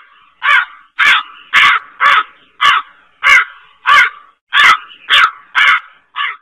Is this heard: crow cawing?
yes